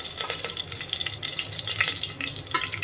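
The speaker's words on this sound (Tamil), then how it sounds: "முதல்ல எண்ணெய் ஊற்றிக்கலாம்." Oil is poured into a cooking pan in a home kitchen, a steady close hissing stream with light splashy trickling throughout.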